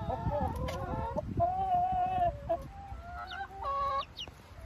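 Curious backyard hens cluck and make drawn-out tonal calls nearby, a series of clear close vocalizations in irregular bursts with soft rustling underneath.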